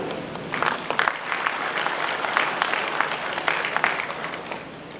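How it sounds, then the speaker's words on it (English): An audience claps at a college semiconductor workshop, dense and continuous applause with sharp individual claps close by, holding steady for several seconds. "Let's have a big round of applause."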